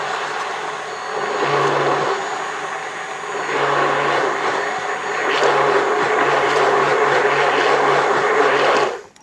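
A blender whirs loudly as it mixes blueberry Dutch baby batter of eggs and other ingredients for campfire Dutch oven cooking. One continuous motor drone runs with slight dips in pitch and cuts off abruptly at the end.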